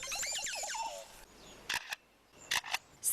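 A songbird trills a run of quick chirps, then mimics a camera shutter with sharp, dry double clicks repeated three times at close range, with no one speaking.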